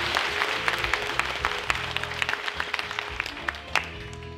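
A church congregation at a Christmas service claps hands for God, a lively, irregular patter of clapping with sharper individual claps standing out, close and fairly loud, with a low hum underneath.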